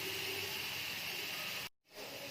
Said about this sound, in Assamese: मैं आदा নহৰুখিনিও ভালদৰে ভাজি ললো যাতে তাৰ গোন্ধটো যায়